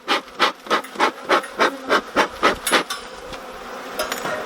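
Honey bees in an opened hive, a colony left queenless for about five weeks, buzz loudly in close, pulsing surges, roughly ten even swells before settling into a softer continuous hum.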